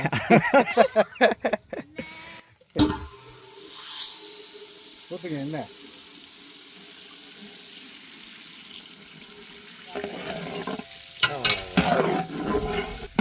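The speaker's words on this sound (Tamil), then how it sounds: "வெண்ணெய் நல்லா கரைஞ்சிட்டு இருக்கு" Melting butter sizzles steadily in a pan with a soft hiss while cooking masala chicken fry for a puberty ceremony feast, with utensil clatter and people talking at the start and end.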